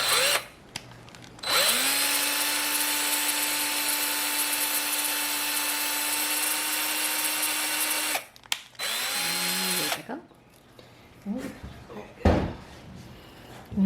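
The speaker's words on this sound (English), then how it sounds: "Oh, this is a very tiny drill bit, huh?" A very tiny bit drills a hole in a resin keychain, its steady high electric whine running for about six seconds, stopping, then briefly restarting, followed by clatter and handling knocks close by.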